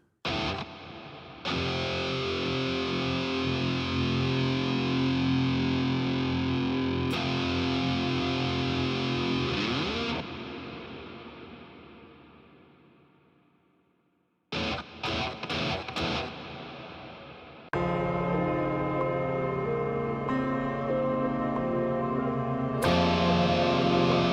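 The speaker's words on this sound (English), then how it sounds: "Let's throw on some kind of reverb on here, like a black hole from Eventide." Music drenched in heavy Eventide Blackhole reverb, with long washy tails fading out after each phrase, a sudden stop, then louder distorted playing returning.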